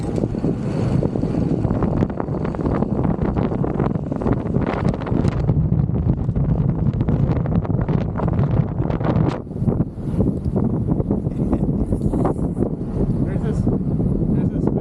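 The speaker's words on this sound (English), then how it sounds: "The sound of the wind is amazing." Strong wind roars and buffets the microphone continuously while walking on the New River Gorge Bridge in December, a dense unbroken rumble with gusty surges.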